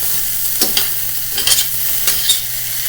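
Peppers and onions sizzle and crackle in a hot pan, a constant hiss with a few scraping stirs.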